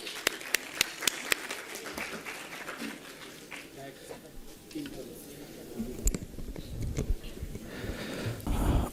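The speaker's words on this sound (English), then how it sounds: "Please give a big round of applause for Sir for the address" Scattered claps from an audience at a startup event, with sharp individual hand claps early on, then a thinner, irregular patter under background murmur and voices.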